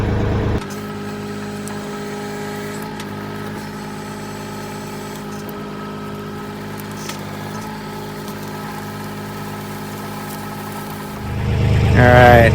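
A Kioti tractor's backhoe engine hums at a steady idle while the bucket is pulled out of a tangle of blackberries, then the engine swells louder and rougher near the end.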